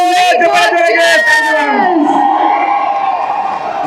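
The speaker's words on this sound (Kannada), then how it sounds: "ಜೋರ ಚಪ್ಪಾಳೆ ಬರಲಿ" A large crowd cheers, whoops and shouts loudly and continuously at the pre-release event for the Kannada film "Krishnam Pranaya Sakhi", with excited voices that fade into a steady crowd roar.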